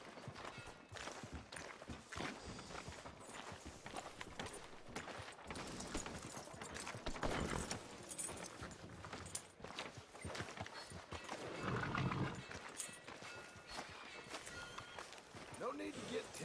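Horse hooves clip-clopping along a street in the Red Dead Redemption 2 video game, a steady, moderately loud rhythmic trot that runs throughout, with a faint voice speaking.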